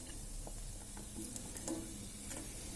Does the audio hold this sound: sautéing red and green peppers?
yes